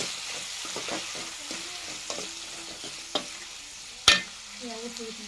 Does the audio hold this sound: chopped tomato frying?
yes